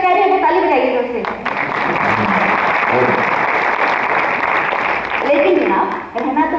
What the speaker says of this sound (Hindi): अगर सच कह रहे हैं तो ताली बजाइए जोर से